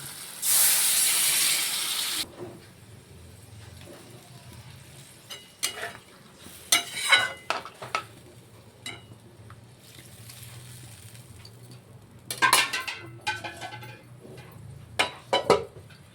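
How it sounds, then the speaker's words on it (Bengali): Water poured into sizzling, fried-down spice masala with green chillies for a Bhola fish curry with aubergine and potato; a loud hissing burst up front, then quieter bubbling and scattered clinks and stirring scrapes. "ঠিক এই স্টেজে আমরা এখানে জলটা দিয়ে দেবো"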